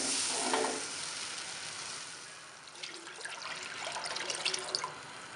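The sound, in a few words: water being cooked in a pot for rice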